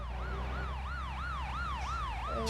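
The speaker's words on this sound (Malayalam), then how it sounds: "ഒരു ആംബുലൻസ് പോലെ അയ്യോ പോലീസ് വണ്ടി ഉണ്ട്" A police car siren wails in a KSRTC bus simulator game, a steady rising-and-falling electronic sweep repeating about every half second, loud and continuous over a low engine rumble.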